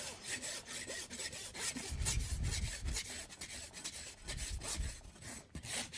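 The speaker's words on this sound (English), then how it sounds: "using my rasp, I'm going to rasp down to that parameter that I set on the solar surface, which is a uniform wall thickness" Farrier's rasp filing down a horse's hoof wall to a uniform wall thickness, heard as repeated rough scraping strokes at close range, with heavier rubbing passes in the middle and near the end.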